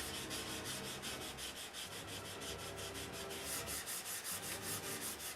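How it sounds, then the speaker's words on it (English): Steady hand sanding of a finished surface for leveling before painting, a continuous rhythmic rubbing stroke repeated back and forth, close and fairly quiet. "I'll show a few minutes of the sanding"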